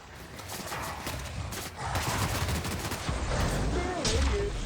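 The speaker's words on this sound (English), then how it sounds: "I could charge up my shots with power energy weapons like this" Charged energy-weapon shots from a power weapon in The Outer Worlds, fired as a dense, continuous burst of crackling zaps and thumps over steady game noise, with no gaps between shots.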